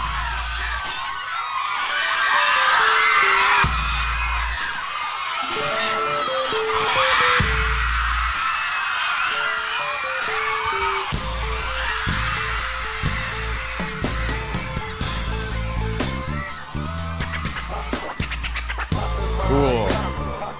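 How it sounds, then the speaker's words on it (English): Deep booming 808 kick drum hits pulse under a live R&B performance at a 2007 BET show, with loud music, vocals and cheering crowd throughout. "So it sounds like there's like an 808 or something doing like the boom boom. It's just like this low like kick drum pitch"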